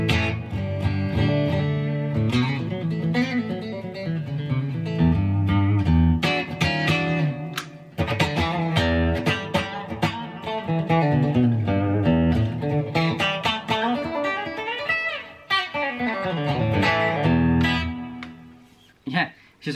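Clean electric guitar, a Telecaster-style guitar in the middle pickup position, played through a Boss IR-200 amp-simulator pedal on its natural patch with the hall reverb off: about twenty seconds of steady strummed chords and picked notes, close and bright.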